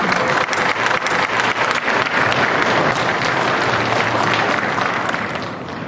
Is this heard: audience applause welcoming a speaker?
yes